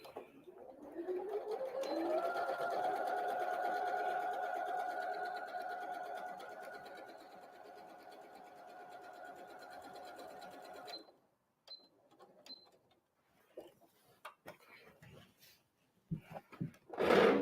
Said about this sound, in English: So I'll go ahead and sew this one